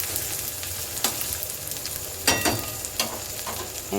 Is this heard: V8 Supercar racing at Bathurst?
no